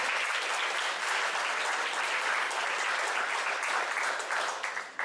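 An audience at an athletic sports banquet applauds in a dense, steady wash of many hands clapping that holds loud throughout and thins slightly at the end.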